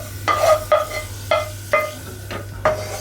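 Cashews fry in a kadai for semiya payasam while a spoon stirs them. About six quick scraping strokes ring out close and clear in an even rhythm, each with a brief sizzle behind it.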